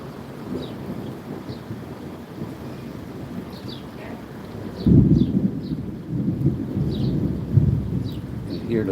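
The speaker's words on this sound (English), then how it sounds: "You can hear the thunder, I think." Thunder rumbles during a rainstorm in Cuba, a low steady roar of rain and wind with a heavier rolling swell midway, faint and distant-sounding throughout.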